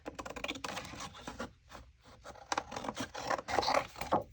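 Scissors snip through a vintage greeting card, a close run of quick crisp cuts and paper rustles with short pauses between strokes, quiet and without talk.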